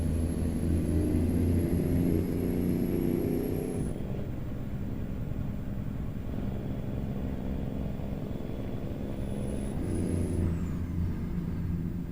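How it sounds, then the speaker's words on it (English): A heavy truck engine in American Truck Simulator rumbles steadily, then a sharp hiss of air brakes cuts in, with another brief hiss near the end over continuing low drone. "Let's just slam on the brakes for no frickin' reason."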